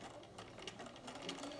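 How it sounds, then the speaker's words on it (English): Sewing machine back-stitching bias tape onto a fabric mask, a quick quiet mechanical whir of rapid stitches running continuously for a short burst. "I'll start with a back stitch"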